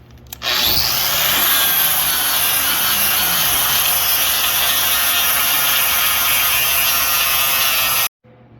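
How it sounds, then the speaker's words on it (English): An angle grinder fitted with a flap disc cleans rust off a steel truck frame rail, a loud, continuous, close abrasive whine and rasp that runs steadily before cutting off abruptly. "the old angle grinder. Flap disc on there, we cleaned up this rail."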